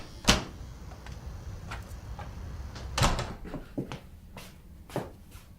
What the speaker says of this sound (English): Jason opened the door for me.